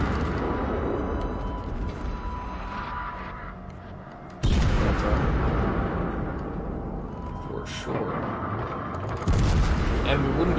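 Fifteen-inch warship guns fire booming salvos in World of Warships Legends, with a heavy blast around the middle and another near the end, each followed by a long rumbling tail, while someone talks over the gameplay.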